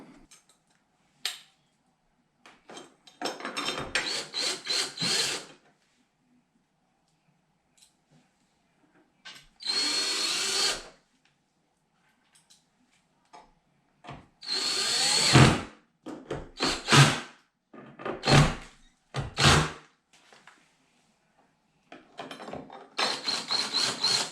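Door hinges are fastened into a door frame with a power drill, heard as several short close whirring bursts of screwing separated by quiet pauses and light handling clicks.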